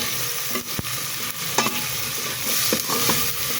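Onions frying in a pan give a steady broadband sizzle with a few sharp stirring knocks and scrapes, close and continuous, with nobody talking.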